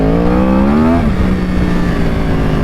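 A Yamaha R1 sport motorcycle revs hard under the throttle, its loud, close engine note climbing steadily for about a second, then dropping back to a rough, steady drone.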